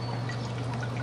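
Water trickling and pouring in a small outdoor nano airlift pump setup with a little reservoir, a continuous soft stream with a steady low hum underneath.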